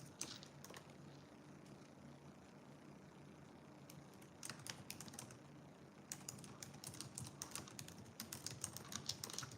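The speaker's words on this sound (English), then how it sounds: "I'm like typing her answer in already" Rapid clicking of computer keys, quiet and close, in uneven bursts that grow busier toward the end.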